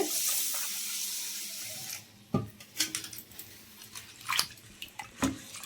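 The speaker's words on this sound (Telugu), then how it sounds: "బియ్యం అయితే తీసుకున్నానండి ఇప్పుడు వీటిని శుభ్రంగా కడుక్కోవాలండి" Running tap water splashes into a sink for the first couple of seconds, then stops, followed by scattered clinks and sloshing as ration rice grains are swished and rinsed.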